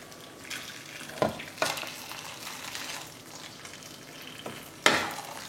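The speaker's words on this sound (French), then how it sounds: "On va la verser tant qu'elle est frémissante sur les maquereaux." Hot, simmering Muscadet marinade poured over mackerel fillets, giving a steady close hiss and sizzle with a few sharp clatters of pan or utensil.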